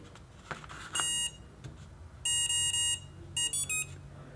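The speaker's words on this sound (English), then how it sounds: "3 beeps means it's a 3-cell battery." Electronic speed controller on a model plane motor sounding a run of three short, clipped beeps, then three more shortly after, fairly loud and clear over a quiet room hum, with a brief tone before them.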